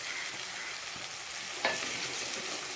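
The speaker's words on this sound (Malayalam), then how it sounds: "മഞ്ഞൾപ്പൊടി എണ്ണയിൽ വറുത്ത് കിട്ടുന്നതിൻ്റെ ആ സമയത്ത്" Turmeric powder fries in hot oil with tomato and spices for Goan chicken curry, a close steady sizzle with a brief stir or scrape partway through, no talking.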